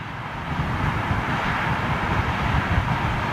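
Jet airliner landing on the runway at Heathrow, a steady loud broadband engine roar with low rumble that stays near and constant throughout, no voices over it.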